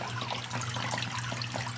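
Filtered water trickles and splashes back into a crayfish tank made with plastic bottles, a steady close gurgling flow with no talking.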